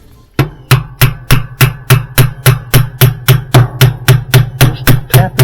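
Washer spin block being tapped into place on a Whirlpool washing machine, a run of about sixteen sharp, evenly spaced knocks at a brisk steady rhythm, close and loud with no talk.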